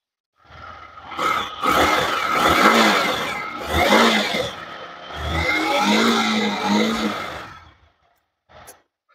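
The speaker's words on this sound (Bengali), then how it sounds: "এবার এক্সস্ট সাউন্ডটা আপনাদের শুনিয়ে দেবো।" A Yamaha MT15 motorcycle exhaust after starting: about three swelling, revving roars rise and fall in turn, fairly loud and close, followed by a short blip and quiet.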